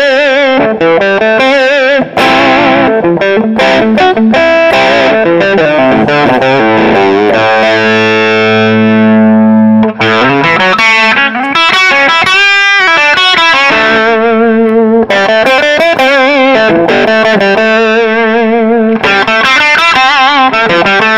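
A Gibson electric guitar plays through heavy distortion with an effects unit, loud and up close. Chords and sustained notes ring out, with several notes held long, and no voices are heard.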